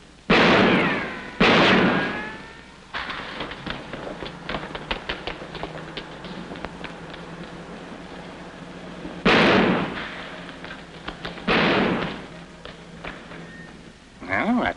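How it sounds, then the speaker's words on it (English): Gunshots ring out in a scene from the 1947 film comedy My Favorite Brunette. Four loud, echoing bangs come in two spaced pairs, with softer clattering and tapping between them. "Hey, stop or I'll shoot!"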